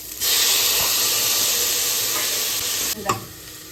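Loud, continuous sizzling of tomatoes dropped into hot oil, a dense hiss that eases slightly near the end with a brief clatter.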